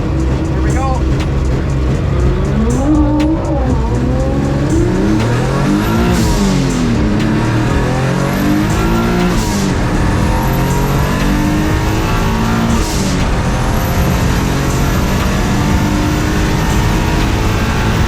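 A drag car running 25 psi of boost launches down the strip, with a loud, continuous engine roar whose pitch rises and falls through gear changes and a whine sweeping upward over the top.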